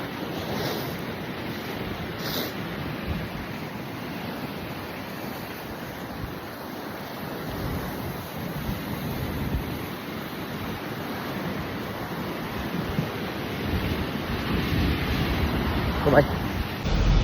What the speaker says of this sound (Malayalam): നല്ല തിരമാല